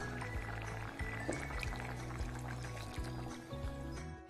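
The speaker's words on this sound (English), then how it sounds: "Now you can add the thick coconut mix." Thick coconut milk poured into a pot of simmering anchovy gravy, a steady liquid pour and bubbling heard up close, with no one talking.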